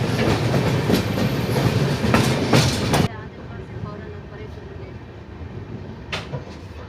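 The Udan Express, Mumbai LTT to Chhapra, runs on its rails with a loud, close rumble and rhythmic clatter that suddenly drops to a quieter steady roll halfway through, with a sharp knock later.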